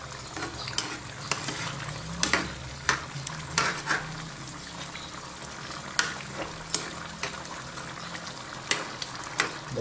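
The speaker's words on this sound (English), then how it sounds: "And I'm gonna mix it up a bit." Vegetables fry in a pan while being mixed, giving a continuous close sizzle dotted with frequent light scrapes and clicks from the utensil.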